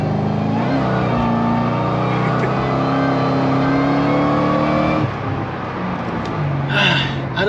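A supercharged, nitrous-fed Ford Crown Victoria accelerates on a dyno, its engine note rising in a loud sustained pitch sweep that drops off near the end, with someone talking over it.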